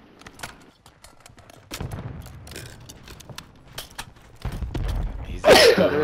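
A single sharp sneeze bursts out near the end, close and loud, after a stretch of scattered gunfire pops and shooting sounds from a video game match.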